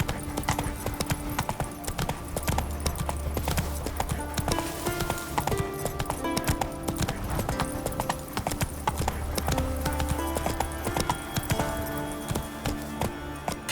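Roach, the horse in The Witcher 3: Wild Hunt, gallops with rapid, steady clip-clop hoofbeats throughout, set over a dense orchestral game score.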